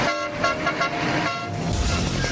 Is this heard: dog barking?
no